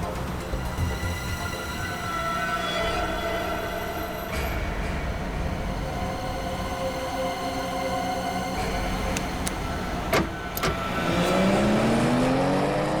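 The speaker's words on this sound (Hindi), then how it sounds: "स्लो चलाओ गाड़ी" A car drives fast, its engine droning steadily under road rumble, then revving harder with rising pitch near the end, loud and close, with no voices.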